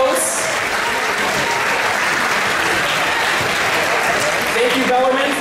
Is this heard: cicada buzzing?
no